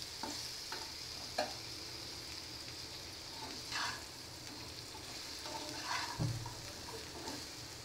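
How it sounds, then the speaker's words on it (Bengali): Cauliflower pieces fry in oil with salt and turmeric, giving a faint, steady sizzle broken by occasional scraping stirs of the pan. "আর তো ওটা ভাজা হচ্ছে"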